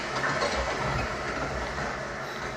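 A train rumbles steadily in a World War II film scene, a continuous close roar of rolling wagons and rail noise with no voices heard.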